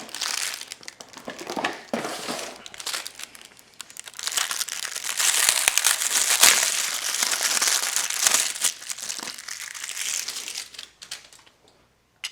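Bicycle pedals for an Alpha Murf electric bike pulled from crinkly plastic packaging: sustained close crinkling and crumpling that swells and fades in bursts, with no talking.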